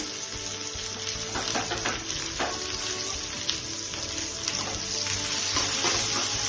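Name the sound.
chopped onions frying in pan for fish curry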